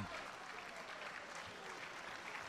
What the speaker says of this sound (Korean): 관중들 난리가 났네요